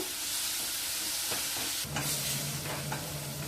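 Onions and tomatoes sautéing in a pan give off a dense, continuous hiss and sizzle, loud and close, with a few stirring scrapes and a faint steady hum running underneath.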